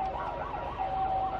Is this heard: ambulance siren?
yes